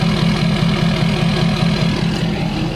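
A lifted Ford F-250 Platinum's 6.7-litre diesel engine idles with a steady, deep rumble, loud and close, holding an even low throb throughout.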